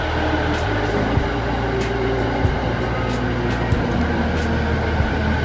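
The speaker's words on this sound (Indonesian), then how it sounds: "kereta kita sudah datang tuh" A train pulls into a station in Japan, a steady rumble with low shifting hums and faint periodic clicks over a station background.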